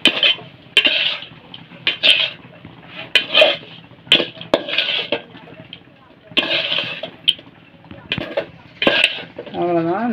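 Okra and ground coconut sautéed in a pan, with repeated metallic spatula scrapes and clanks against the pan in bursts, a soft sizzle underneath, close and fairly loud.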